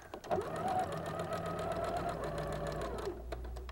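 A sewing machine stitches quilt pieces in a steady, fast mechanical whir that runs for about three seconds before stopping.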